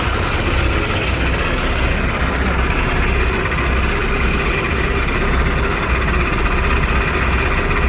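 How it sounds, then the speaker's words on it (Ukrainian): Tractor engines working a field while ploughing, a steady loud drone of heavy diesel running throughout without a break. "Там ще якісь трактора печуть."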